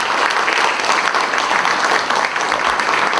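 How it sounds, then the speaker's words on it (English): Loud, sustained applause from a conference audience at a London corporate governance and sustainability convention, a dense wash of many hands clapping at once and staying steady throughout. "But I'd like a big round of applause,"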